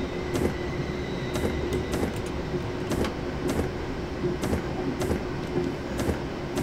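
A London Midland passenger train in Train Simulator 2018, running through the winter Trent Valley toward Rugby. It gives a steady low rumble with regular rhythmic clacks of the wheels over rail joints, continuous and without talk.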